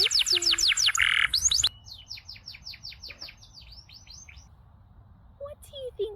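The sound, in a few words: bird chirping, in a guess-the-animal-sound game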